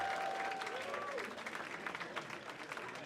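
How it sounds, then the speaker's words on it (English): Audience applause for four pun contest contestants at a tournament round, a steady wash of clapping at moderate level that thins slightly toward the end, with a faint tone and some background voices at the start. "Big round of applause for all 4 contestants"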